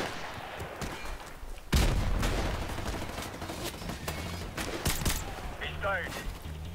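Gunfire in the video game Call of Duty 4 Remastered, sharp bursts and a heavy nearby blast amid ongoing battle noise, with someone talking over the action.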